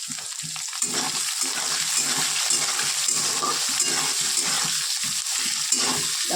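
Chopped onion fries in a pan for khichuri, giving a steady, close crackling sizzle with small irregular pops and stirring scrapes throughout, and no voices.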